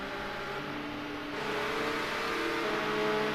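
Ford Escort race cars accelerate down a straight in a row. A sustained engine drone with steady tonal whine builds slightly louder toward the end, with no talking.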